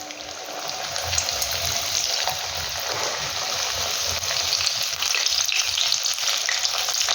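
Chilli rolls frying in hot oil, a loud, steady crackling sizzle with bubbling and spitting that holds throughout, close by, with no voices.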